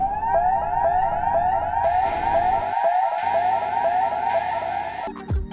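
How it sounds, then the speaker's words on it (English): A long range acoustic device on a cargo ship, used against pirates, projects a loud, continuous warbling siren-like tone that pulses steadily for about five seconds before breaking off abruptly. "LRAID or long range acoustic device, this special device actually generates such a sound beam"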